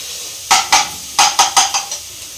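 Mushrooms frying in a pan for mushroom manchurian, with about seven sharp scraping clinks of a spatula against the pan in quick bursts over a soft, steady sizzle, close and fairly loud.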